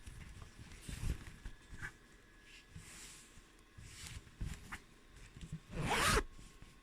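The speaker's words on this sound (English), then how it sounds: "you have to hold the zip at the back and the seam allowance as you're pulling" An invisible zip pulled closed through fabric with the seam allowance held at the back: a few short, raspy zipping strokes, close and crisp, ending in one louder, longer rasp.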